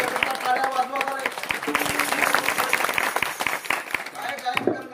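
An audience at a kirtan claps in a dense, lively burst of applause that continues steadily, with voices speaking and calling out over the clapping.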